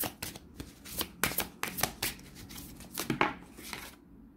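Oracle cards shuffled close up by hand, a run of soft papery riffles and slaps in an irregular rhythm, fairly quiet, ending with a brief card snap and no talk.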